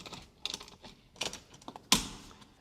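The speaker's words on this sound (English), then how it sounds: "You can hear the torque wrench now clicking as Peter tightens it up" A torque wrench clicks as it tightens a 6-inch Rhino stainless steel boltless tank fitting, sparse sharp clicks arriving in small irregular bursts, close by, with one louder snap near the end.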